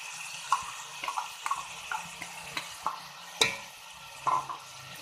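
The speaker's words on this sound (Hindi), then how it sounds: "और इसी के साथ हम अपने पिसे हुए टमाटर डालेंगे" Ground tomatoes go into a pan of frying meat and onion paste and get stirred, soft sizzling under a series of scraping, clattering spoon strokes, close and fairly quiet.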